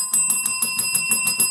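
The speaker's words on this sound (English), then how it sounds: "Where's my bell?" A handheld bell rings in a quick, steady series of about eight bright metallic strikes, each with a sustained shimmering ring, loud and close with no talking.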